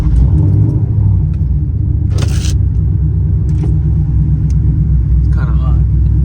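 Steady loud low rumble of a car engine while driving on a city street, a continuous drone with a few brief higher hisses passing over it.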